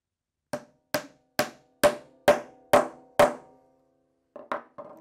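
A glued dowel is tapped into a hole in a DIY catapult base: seven evenly spaced, sharp knocks ring out close by, then a short pause and three quicker, lighter taps.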